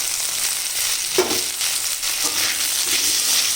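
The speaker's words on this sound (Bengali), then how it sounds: "ঘি তেল ছেড়ে দিয়েছে এবার দেবো টমেটো কুচি" Chopped tomato frying in hot ghee and oil, a constant loud close sizzle with a short stirring knock about a third of the way in, no talking over it.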